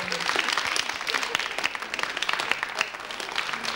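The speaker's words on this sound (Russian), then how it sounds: "Аплодисменты вам, Маш Толкин." Studio audience applauding on a Russian TV game show, a dense steady patter of many hands clapping through the whole stretch, fairly distant and even, with no clear talk over it.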